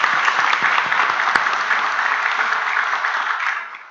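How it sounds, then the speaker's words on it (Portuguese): A church congregation applauds together in a dense, even burst of clapping that holds steady for a few seconds and then starts to fade. "Vamos dar uma salva de palmas para o nosso Deus?"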